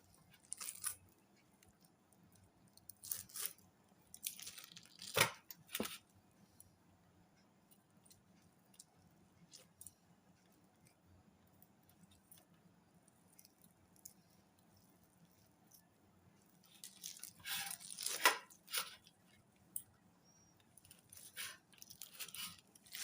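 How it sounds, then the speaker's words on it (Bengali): Skin being peeled from a washed, ripe palm fruit by hand, with soft wet squishes and tearing in scattered bursts, faint and close in a quiet room. "তালটা আগে ধুয়ে ভালো করে পরিষ্কার করে নিয়েছিলাম এখন খোসা ছাড়িয়ে নিচ্ছি"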